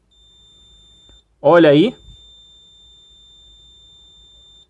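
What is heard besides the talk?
electronic beep from the pump triac on an Electrolux power board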